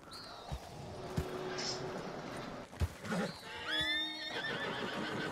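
Horse in Red Dead Redemption 2 whinnying loudly near the end, with clip-clopping hooves and scattered game sounds throughout, and a voice talking faintly in the background.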